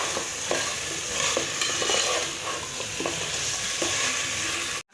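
Cut potatoes fry in hot oil in a pan for chicken curry, a steady bright sizzle with soft stirring scrapes recurring every second or so, close and continuous until a sudden stop.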